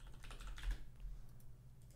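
Quick bursts of typing on a computer keyboard, close and fairly clear, with rapid irregular key clicks over a low steady hum and no talking.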